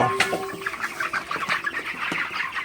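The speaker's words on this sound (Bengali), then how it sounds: "মুরগিগুলো খাবার খাইতেছে" Broiler chickens in a farm shed at night, feeding and clucking; a dense chorus of overlapping clucks and short calls at close range, with no talking.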